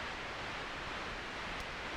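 Synthesizer noise passing through a filter and panned from side to side by an LFO, a steady, even hiss that holds level throughout the short stretch.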